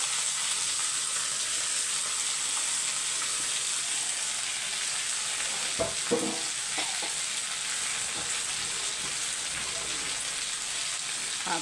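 Capsicum and brinjal sauté in a pan with a steady fine sizzle, a few brief scraping stir sounds near the middle, close and moderately quiet with no talk.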